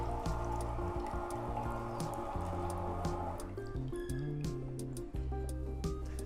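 Lemons are squeezed by hand for homemade lemonade juice, making wet squelching and dripping sounds up close, steady and moderately loud, with no talking.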